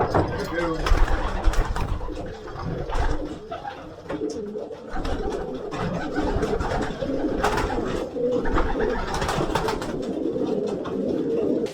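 Racing pigeons coo and murmur continuously in a loft, with wing flaps and shuffling throughout and some voices mixed in.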